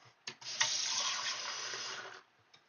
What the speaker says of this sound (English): Straight from the sink.